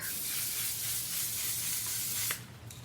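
Makeup setting spray misted from a bottle onto the face, a steady close hiss lasting over two seconds before cutting off, followed by a quieter brief puff.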